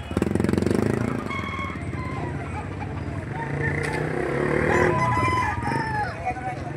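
Rooster crowing at a Padre Garcia, Batangas livestock market, a white-feathered bird with yellow feet, heard amid crowd talk and passing motorcycle and traffic noise, the call rising in the middle and fading.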